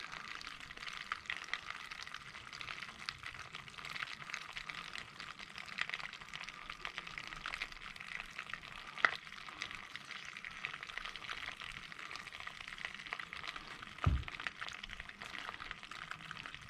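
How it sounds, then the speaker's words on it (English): Sugar and honey slowly melting and cooking in a pan, a faint continuous soft crackle and bubbling that holds steady, with one or two small clinks. "I'm just going to let that melt away and cook"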